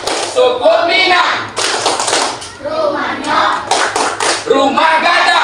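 Schoolchildren doing the Minang clapping chant, repeated group hand claps in a steady rhythm, close and loud, woven through with kids' chanting voices.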